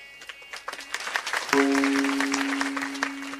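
Audience applause at a Marathi kirtan by Amrut Maharaj Joshi, a crowd of listeners clapping in a dense, steady patter that swells after the first second and holds, with a sustained tone from the sound system running underneath.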